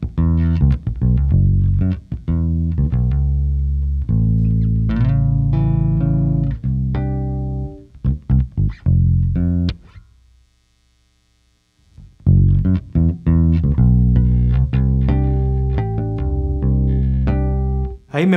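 Jazz bass played through its front neck pickup for a deeper, rounder tone; loud, close plucked lines stop for a short silence midway, then start again.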